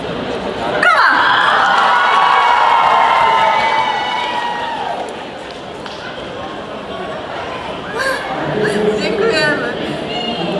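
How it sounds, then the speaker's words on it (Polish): Audience at an anime convention live show cheering and clapping after a call for applause, a loud sustained crowd roar with shouts that fades midway, then rises again with scattered voices. "Brawa!"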